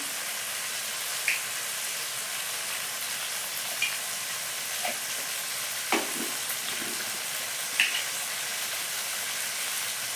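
Spices with turmeric fry and get stirred in a pan, a soft steady sizzle punctuated by a handful of spaced clinks and scrapes from the spoon.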